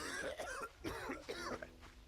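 Several short, raspy coughs from a character in the game 7 Days to Die come one after another in rapid bursts, fairly close and moderately loud, with no talking.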